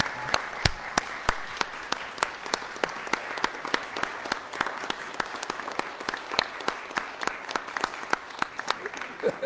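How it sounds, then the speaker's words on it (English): Sustained audience applause for Kai at a Valdosta City Council regular meeting, a dense steady wash of many hands with sharp individual claps standing out, lasting the whole stretch with no speech over it. "Please give Kai a big round of applause."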